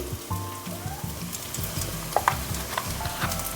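Spices frying and sizzling in a pan for a potato paratha filling, a steady soft crackle with light stirring scrapes and a few sharper pops, fairly quiet and close, with no talking.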